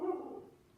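A single short dog bark, fairly close, followed by a brief higher sound at the end.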